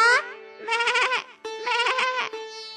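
A cartoon goat in a Bengali animated story gives several loud, quavering bleats in close succession, near and clear, with no talking over them.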